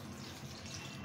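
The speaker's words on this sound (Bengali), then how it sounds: "এখন একটু পানি অ্যাড করে দিচ্ছি" Water poured into a cooking pan of spiced chicken, a brief steady rushing splash heard alone at low level.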